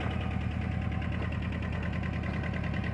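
A John Deere 650 tractor engine runs close by at a steady idle, its low throbbing rumble pulsing evenly and fairly loudly without changes in pace.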